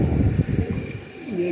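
Breeding pigeons coo in a steady, throaty rumble at close range, several birds overlapping, ending with a rising drawn-out coo.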